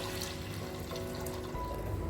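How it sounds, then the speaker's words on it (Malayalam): Water pours steadily into a pressure cooker for a short stretch, a dense, even splashing and gurgling close by with no voices. "3 കപ്പ് വെള്ളം ഒഴിച്ചു കൊടുക്കുക."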